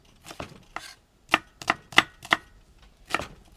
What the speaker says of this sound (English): I'm just doing a rough cut of these onions here